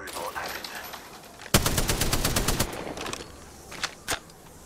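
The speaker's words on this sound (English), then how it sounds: "I'm just trying to shoot both of my guns so they think there's somebody over here fighting" Rapid bursts of automatic gunfire from guns in the battle royale game Apex Legends, a loud dense volley lasting about two seconds followed by a few scattered single shots, with no talking.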